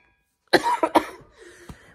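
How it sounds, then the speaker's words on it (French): A short cough, two or three quick harsh bursts from a person with a lingering nagging cough and sore tonsil, close to the microphone, followed by a softer breathy tail. "j'ai encore ma petite toux gossante"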